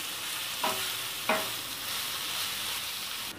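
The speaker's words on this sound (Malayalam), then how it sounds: "ഇനി ഈ മാങ്ങ ഇഞ്ചി നല്ലപോലെ ഈ എണ്ണയിൽ നല്ലപോലെ ഒന്ന് വഴറ്റണം." Diced mango and ginger sautéing in hot oil for a mango-ginger pickle, a steady soft sizzle broken by two sharp stirring scrapes early on, close and quiet with no talking.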